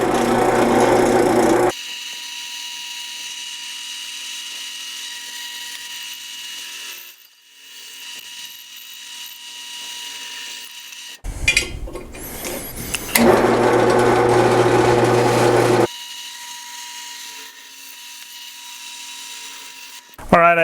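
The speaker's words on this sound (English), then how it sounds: "I'm just gonna drill it to 1/2 inch" A drill grinds steadily through scrap metal, lubricated with used motor oil, in two long bursts, a loud whine with a rough edge, separated by quieter stretches and brief handling noises.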